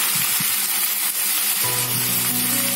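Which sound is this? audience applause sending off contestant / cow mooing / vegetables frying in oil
vegetables frying in oil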